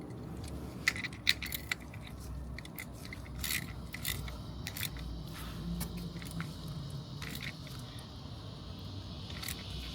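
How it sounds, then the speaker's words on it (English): Metallic clicks and light clinks of a socket wrench and sockets during an oil change on a DR650 motorcycle, a few sharp taps early on, then scattered small scrapes and rattles, close and fairly quiet. "And I'm switching to the 19 on my socket."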